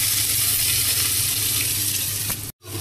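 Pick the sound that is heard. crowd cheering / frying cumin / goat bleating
frying cumin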